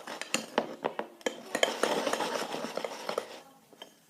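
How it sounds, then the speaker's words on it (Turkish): A spoon stirring butter slime in a bowl, with a run of close, uneven clinks and soft squelchy scrapes against the bowl that thin out toward the end. "İyice karıştırıyorum."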